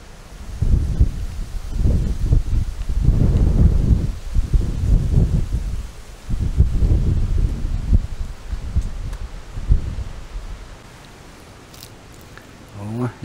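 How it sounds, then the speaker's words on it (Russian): Strong southeast wind gusts buffet the microphone outdoors on a fishing trip, with deep rumbling roars surging in waves and easing off toward the end. "Вот такой вот ветер разгулялся."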